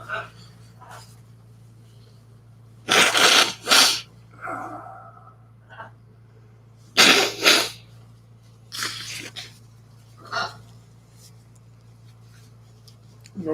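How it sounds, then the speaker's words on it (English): Two loud, noisy bursts of nose blowing close by, each followed by sniffs and rustling, with a low hum underneath. "I've got to blow my nose."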